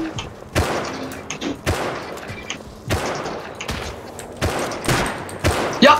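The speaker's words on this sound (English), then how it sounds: "this guy's using explosive ammo" Rapid bursts of video game gunfire with explosive ammunition, sharp heavy cracks and thuds repeating in irregular clusters, loud and close, with no talking.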